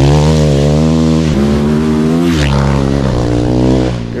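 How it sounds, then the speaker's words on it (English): A 2021 Kawasaki KX450 dirt bike engine runs loud and close, holding a steady buzzing drone with small shifts in pitch as the throttle moves, alone with no voices. "KX450. It's a 2021, and we're gonna try her out,"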